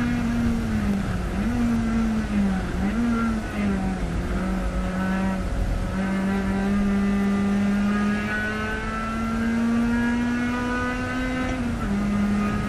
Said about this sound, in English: Daniels and Moser, the 2 combatants at the very front of the field as they go through Canada Corner, pretty much nose to tail